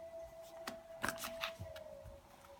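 Quick riffling and flicking of tarot cards, several soft bursts of papery shuffling close by, with a faint steady hum underneath.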